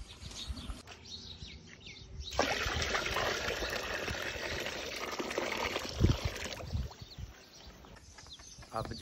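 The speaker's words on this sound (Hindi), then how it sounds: "पानी जो है वो भरा जा रहा है," Water poured and filled into a container for farm animals during a village morning in Pakistan, a steady rushing splash that swells for a few seconds and then fades, with faint bird chirps around it.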